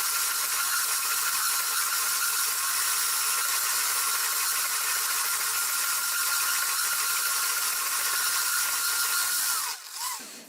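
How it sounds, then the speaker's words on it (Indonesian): An electric hand mixer whirs steadily and loudly while beating powdered sugar batter until light and creamy, a continuous motor drone that cuts off just before the end. "selanjutnya adalah kita mixer hingga creamy ya"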